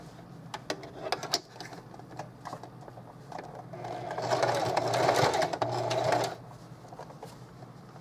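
A sewing machine runs a straight stitch along the edge of a vintage lace snap bag, with a few scattered clicks before a steady, fairly quiet whirring run of a couple of seconds, close up with no talk.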